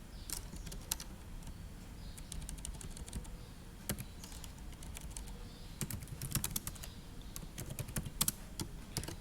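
Quiet, steady typing on a computer keyboard, with irregular clusters of key clicks and a few louder taps, alone without voices.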